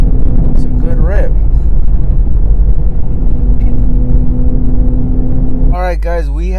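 A nitrous-fed Ford Mustang GT roars under hard acceleration as a loud, steady engine drone, with shouting voices cutting in near the start and end.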